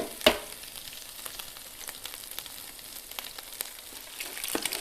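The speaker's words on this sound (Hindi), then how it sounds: "ब्राउन हो जाए तो इसमें डाल दीजिए 1 एग।" An egg sizzles and crackles in hot oil with browned garlic in a pan while fried rice is being made, a steady close frying hiss with one sharp pop near the start.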